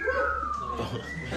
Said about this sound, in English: I thought there's a siren.